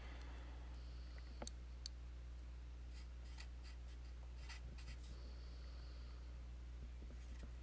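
Pen or marker writing out a trigonometry equation solution on a board or paper, a run of soft scratchy strokes and light ticks, faint against a steady low hum with no talk.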